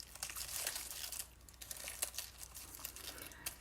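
Pieces of paper card are pulled apart by hand, making quiet, close crinkling and tearing rustles in short uneven bursts, with no voices.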